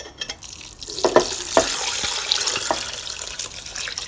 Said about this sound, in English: I'm now going to add my stock.